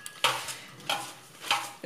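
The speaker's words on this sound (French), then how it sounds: "Je vais mélanger" Steamed rechta noodles with chicken sauce are stirred in a pot, three soft scraping, sloshing strokes at a regular pace, close and fairly quiet, with no voices.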